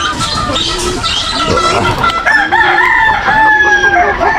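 A rooster crows loudly several times in a row, with other fowl calling and clucking close by.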